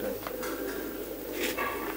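A domestic racing pigeon coos softly a few times against a steady low background hum, fairly close and quiet.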